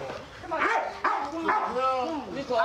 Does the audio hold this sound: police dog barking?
yes